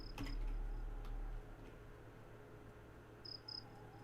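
Crickets in the nighttime fantasy world of the game Veloren chirp in short, high, evenly spaced pulses, faint and distant over a quiet ambient bed, with a brief louder click near the start.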